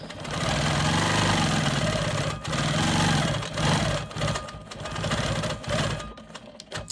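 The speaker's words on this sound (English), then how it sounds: "I'm going to go ahead and stitch in the ditch on this pink triangle here" Close and loud, a sewing machine runs steadily while stitching in the ditch on a diamond quilt block, its fast needle rhythm briefly slowing and restarting near the end.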